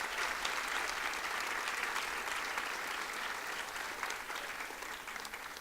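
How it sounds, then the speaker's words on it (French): Steady, dense applause from a large gala audience at an arts recognition evening in Laval, continuous and fairly loud throughout without voices. "on les remercie et on les applaudit chaleureusement de leur présence"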